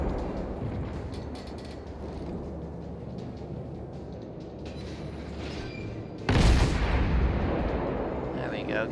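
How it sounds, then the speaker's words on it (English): Warship main guns fire in World of Warships toward an enemy Myoko: a steady low rumble of sea and engine noise, then one loud, close broadside boom near the end that rolls out into a long, decaying roar. "There we go, get some good shots in on that Myoko there."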